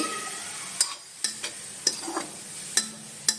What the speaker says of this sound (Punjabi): ਇਹਨੂੰ ਅਸੀਂ ਨਾਲ ਹੀ ਭੁੰਨ ਲਵਾਂਗੇ ਵੇਸਣ ਨੂੰ